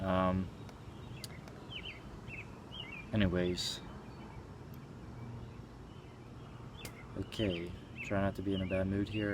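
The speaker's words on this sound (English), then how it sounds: "Listen to the birds in the background." Small birds chirp and tweet in quick bursts in the background while a person talks nearby.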